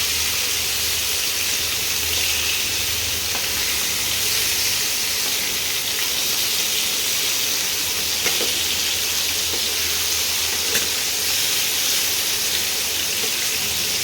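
Chicken pieces frying lightly in white oil, giving an unbroken, dense hiss that holds steady and fairly loud for the whole stretch, with a few faint clicks and no voices.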